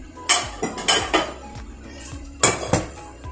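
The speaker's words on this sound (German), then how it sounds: "Wir nehmen uns eine Pfanne." A frying pan and utensils clank and clatter in a handful of sharp, uneven knocks, close by with no talking.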